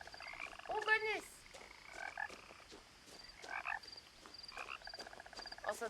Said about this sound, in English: Also, the frog noises are my favorite.